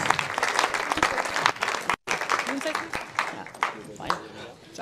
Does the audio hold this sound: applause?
yes